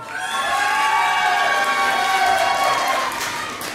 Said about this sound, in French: Applaudissez Jessica, s'il vous plaît.